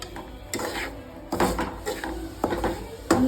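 A spoon stirs and scrapes semolina roasting in oil in a pan over a low gas flame for sweet sheera. There are repeated short scraping strokes against the metal, about five bursts with brief pauses between them.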